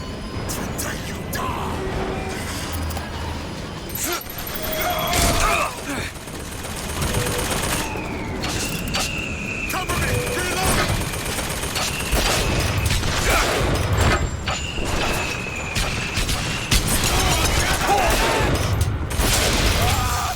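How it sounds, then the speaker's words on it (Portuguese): Sniper and other gunfire in the video game BioShock Infinite crack out in scattered bursts amid combat noise, with game voices and a player talking throughout. "alguém tentou me acertar um tiro de sniper?"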